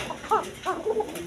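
A female pigeon of a Koka pair calls in a few short, soft cooing notes with gaps between them, heard close and fairly quiet against a low background hum.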